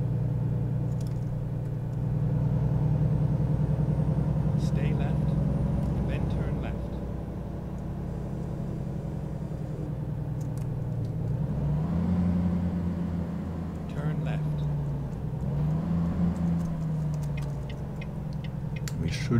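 A car cruising along back roads in Kansas toward Topeka, with a steady low engine and road rumble that shifts as it changes speed. Someone talks over it in German.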